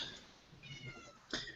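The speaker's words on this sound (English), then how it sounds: "sorry if you hear my cat in the background." A pet cat meows in the background, a couple of faint short calls followed by a louder, sharper meow near the end, set against a quiet room.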